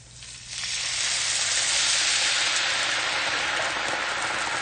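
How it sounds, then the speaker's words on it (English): Food sizzles loudly in a hot pan while a lentil shepherd's pie is cooked. A quiet start swells within half a second into a dense, steady crackling hiss that holds to the end, with no talk. "You can hear it really sizzling."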